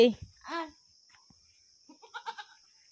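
A goat bleats nearby, first a short bleat and then a quick wavering series a moment later, while a person calls and talks close by in an outdoor farmyard setting.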